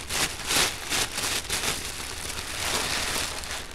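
Mounds of packing paper crinkle and rustle during the unboxing of a case of signed Historic Autographs Ball of Fame baseballs. The crumpling is close and continuous, with a few louder crunches early on.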